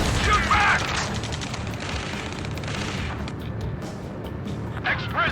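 Gunfire and explosions in Ace Combat 7 combat, a dense, loud, continuous rumble of shots and booms with mechanical clatter, mixed under shouted radio chatter.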